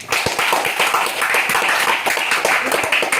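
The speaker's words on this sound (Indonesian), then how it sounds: "Berikan aplaus" Seventh-grade classroom applause, many students clapping in a brisk, uneven patter of sharp claps that carries steadily for a few seconds, fairly loud and near, with no talk over it.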